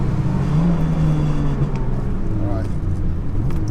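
A 607bhp Seat Leon Cupra slides around a race track, its engine droning loud and close with shifting revs throughout, a voice talking over the steady roar.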